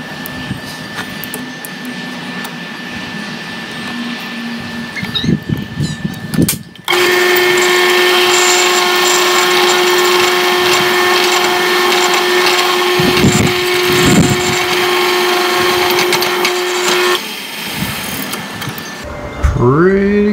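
A drill press countersinks a hole for a 1/4-28 bolt in a workshop lift-improvement job. After quiet shop noise, the motor spins up and whines steadily for about ten seconds, with a few rougher cutting bursts, then stops.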